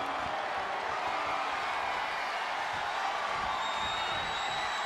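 Steady, dense roar of a large wrestling arena crowd in the WWE 2K24 video game, cheering and whooping continuously at even loudness from start to finish, with no clear talk on top.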